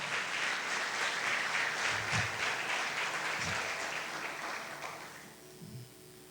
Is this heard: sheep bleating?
no